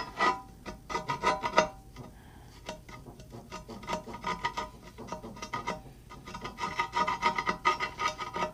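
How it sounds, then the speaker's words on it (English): A tool scrapes softened, chemically stripped paint off cast iron parts in repeated rasping strokes, close and gritty with brief pauses between passes. "We'll scrape some of this stuff off and then"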